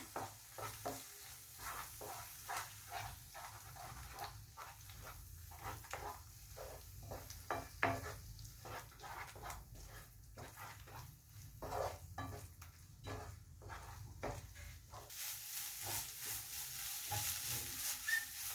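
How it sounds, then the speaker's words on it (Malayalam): Eggs for egg tawa pulao frying over high flame in a pan, with a steady sizzle and repeated close stirring scrapes of a spoon, no voices. "ഇനി നമ്മൾ എടുത്തു വെച്ചിട്ട് മുട്ട ഇട്ട് കൊടുക്കാം. നല്ലോണം മിക്സ് ചെയ്യുക."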